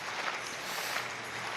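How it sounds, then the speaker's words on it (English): Artificial crowd noise piped into an empty athletics stadium at a 2020 Diamond League meeting in Monaco, a steady broadband wash of murmuring and distant cheering with no individual voices standing out. "Some of the extra crowd noise you can hear."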